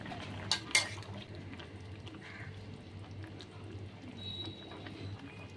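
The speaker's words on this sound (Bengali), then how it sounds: "এরপরে ঢাকনাটা খুলছি, চেক করে নেবো সবজিগুলো সেদ্ধ হলো কিনা।" Metal lid lifted off a pot of cooking vegetables, with two sharp close clinks near the start followed by faint clatter and a quiet background hum, no talking.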